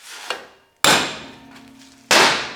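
A metal center punch struck with a hammer to make centre marks on a metal piece before drilling: two loud, sharp metallic strikes with ringing decay, plus a softer tap before them, close by with no talk.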